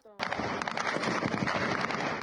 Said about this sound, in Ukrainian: чути стрільбу над головами